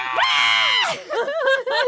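A voice imitates a long, dramatic, high-pitched scream, held for nearly a second and then falling into a few shorter wavering wails, loud and close.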